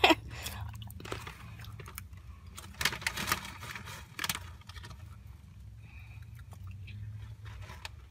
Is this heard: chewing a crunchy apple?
yes